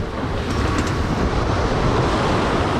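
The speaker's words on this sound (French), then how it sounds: "ça m'amuse de faire des grosses vagues." Water churns and crashes as a watercraft throws up big waves, a loud continuous broadband wash with wind buffeting the microphone and no voices.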